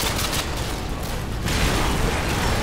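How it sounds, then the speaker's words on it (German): Dense, loud barrage of gunfire and explosive blasts in the shooter game Modern Warfare 2, set in a Rio de Janeiro battle, continuous and chaotic with no talking. "Krasse Scheiße, man, hier explodiert alles."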